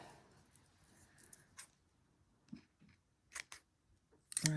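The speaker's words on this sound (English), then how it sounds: "I need a better pair of scissors." Small scissors snip at a doll-house doll's hair, giving a few quiet, separate cuts spread across a mostly hushed stretch, ending in one louder close burst.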